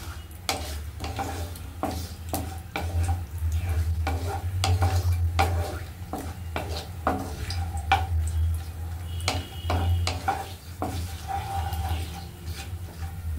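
Cashew nuts fry in spiced oil for a vegetable pulao, with a steady low sizzle under repeated sharp scrapes and clinks of a spoon stirring against the pan.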